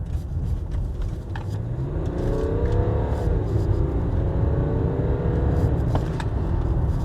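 A BMW 730d accelerating in sport mode, its engine note rising in pitch as revs climb, then dropping briefly at a gear change before pulling up again, heard from inside over steady road rumble.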